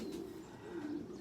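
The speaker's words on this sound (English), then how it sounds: "And there are young birds too." Young pigeons coo in a soft, continuous low murmur, close by and steady, with no voices over it.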